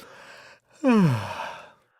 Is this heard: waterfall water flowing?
no